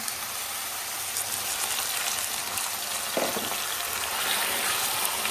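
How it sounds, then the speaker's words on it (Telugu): Chicken fries with onions in a pan, giving a continuous loud sizzle and crackle with a brief stirring scrape partway through, heard close with no talk. "ఆనియన్స్ బాగా ఫ్రై అయిన తర్వాత చికెన్ యాడ్ చేసుకొని బాగా మిక్స్ చేసుకున్నాను"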